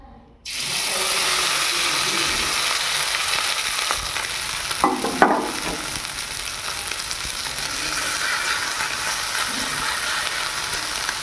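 A fish roe fritter mixed with green chili, raw onion, salt and turmeric fries in oil. A loud, steady close sizzle starts abruptly and runs on, with a brief burst of bubbling and clatter midway.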